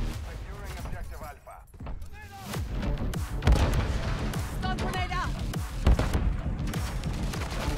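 A grenade blast in the Modern Warfare III shooter game, during Domination mode, a thudding explosion amid scattered gunfire and battle clatter, with players talking over the noise.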